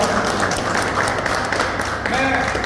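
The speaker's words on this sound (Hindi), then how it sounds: "जोरदार तालियां और पूरी नीचे" A crowd at a village award ceremony claps continuously, fairly loud and steady, while a voice speaks over the applause.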